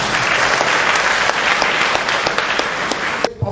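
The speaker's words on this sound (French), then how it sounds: "Applaudissez pour vous." Loud audience applause, a dense burst of many hands with distinct sharp claps scattered through it, cutting off abruptly just before the end.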